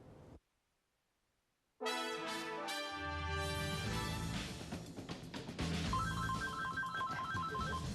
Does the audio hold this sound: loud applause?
no